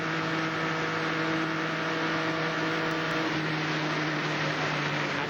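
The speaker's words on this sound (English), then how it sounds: "when we hear him back off the throttle, that's when his troubles start" A stock car engine during a 2000 Speedweeks race roars as a loud, steady, close drone, and its tone shifts partway through as the driver backs off the throttle.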